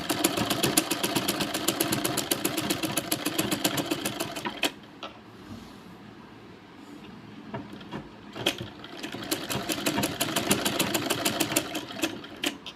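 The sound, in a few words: sewing machine stitching a blouse neck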